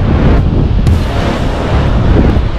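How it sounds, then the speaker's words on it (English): Strong beach wind buffets the microphone in a steady, loud low rumble with gusty surges, blowing at roughly 20 to 25 knots on a coastline where kitesurfing is under way on Christmas Day. "It is windy."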